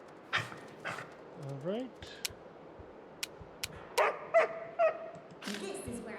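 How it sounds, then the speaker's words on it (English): A hostile dog in the fantasy role-playing game Pathfinder Kingmaker barks and yips in short bursts with a few whines, while someone talks briefly over the game sounds. "Our dog is going to attack us."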